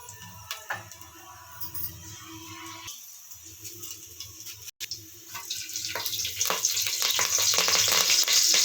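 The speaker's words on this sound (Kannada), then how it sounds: "ಸ್ವಲ್ಪ ಎಣ್ಣೆ ಹಾಕೋಬೇಕು ಸ್ವಲ್ಪ ಸಾಸಿವೆ ಹಾಕೋಬೇಕು" Mustard seeds in hot oil for an okra stir-fry, close sizzling and popping with scattered clinks, the hiss swelling louder and denser toward the end.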